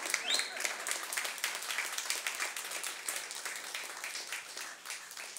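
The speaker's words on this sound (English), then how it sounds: "go ahead and clap." A church congregation claps during a sermon, a soft, steady wash of many hands heard from a distance and sustained throughout.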